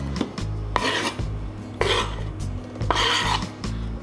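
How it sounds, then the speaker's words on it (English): Chopped salsa ingredients are scraped off a table into a bowl in three or four rough, rasping strokes, each ending with a sharp scrape or knock against the bowl, close and fairly loud. "Let's scrape this right into the bowl."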